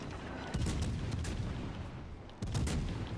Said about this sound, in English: Send out the torpedoes.